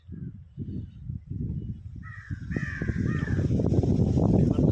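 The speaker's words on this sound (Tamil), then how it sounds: "ஊட்டியில் உள்ள காக்காலாம் எப்படி இருக்கு பாருங்க" Several harsh crow caws ring out in the middle in Ooty, India, over a steady low rumble and rustling background that builds louder toward the end.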